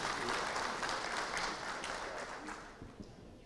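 An audience at a lecture applauds warmly to welcome a speaker, a steady wash of clapping that fades gradually over a few seconds.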